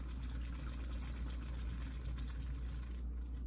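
Stone Delicious IPA pouring from a can or bottle into a glass, a steady liquid trickle and fizz running continuously at close range with no talk.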